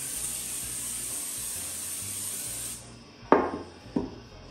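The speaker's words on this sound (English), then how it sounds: "I'm just gonna spray it down with some cooking spray." A steady hiss of cooking spray coating a bread loaf pan for a few seconds, then stopping, followed by two sharp knocks of something set down on a surface.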